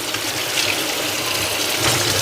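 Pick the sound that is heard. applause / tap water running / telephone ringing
tap water running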